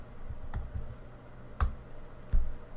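A few sparse, sharp clicks from a computer mouse and keyboard during graph editing on a computer, three distinct close taps spaced irregularly over a low steady room hum, with no voices.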